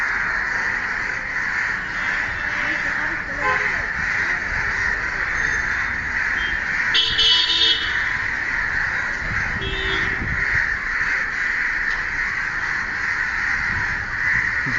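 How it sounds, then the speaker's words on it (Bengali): Crows cawing repeatedly over a city street in Dhaka, several birds calling at once in a steady, dense chorus with louder bursts near the middle, over constant urban background noise. "আকাশ থেকে দেখে সব কাক চলে আসছে।"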